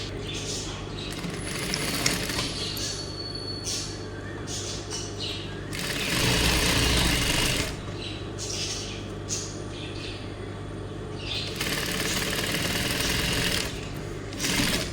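A sewing machine stitches fabric in rapid mechanical bursts, running in spurts with short pauses between, close and fairly loud, with no talking over it.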